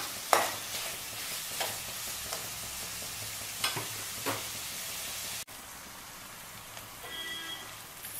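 Mutton deep frying in a pan with a steady, close sizzle, broken by a few scraping stirs and a sudden drop in level partway through as the frying continues more quietly.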